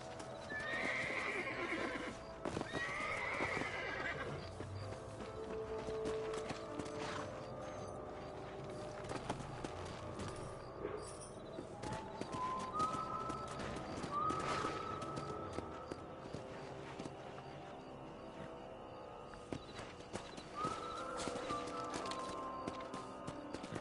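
Horses clip-clop steadily at a fast gallop in the video game Red Dead Redemption, with occasional whinnies and mechanical clicking over a continuous low background.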